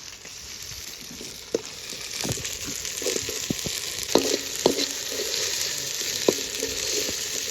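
Onion, ginger and garlic sizzle and fry in a pan outdoors in a village kitchen, a steady hiss with occasional sharp crackles and stirring taps.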